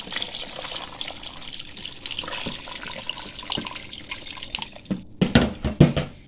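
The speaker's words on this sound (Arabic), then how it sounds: "ودابا غادي نبلل، درت الماء في البيون ديالي" Water runs steadily into a cooking vessel while almonds and lamb are prepared for Moroccan mrouzia, then the pour stops and a few clunks and knocks follow near the end.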